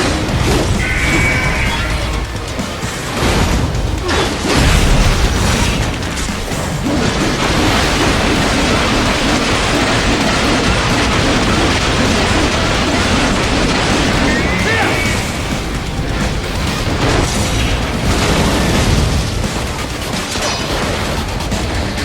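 A laser cannon in a Metal Gear game with Raiden fires plasma continuously: dense, loud crashes, booms and rapid bursts overlap for over twenty seconds with hardly any break.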